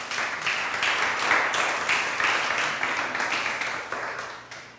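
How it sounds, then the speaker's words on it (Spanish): Sustained applause from a large church congregation, a dense, even clatter of many hands clapping for several seconds before tapering slightly. "Dale ese aplauso otra vez al Espíritu Santo."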